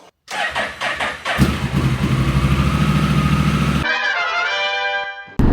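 A Honda Africa Twin motorcycle engine starts and settles into a loud, steady running note close to the microphone, after a few brief clicks; no talking.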